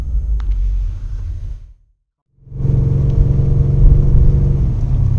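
A BMW M5 F90 engine runs with a deep, loud close-up rumble, cuts to silence for a moment, then fires back up and settles into a steady, throaty idle.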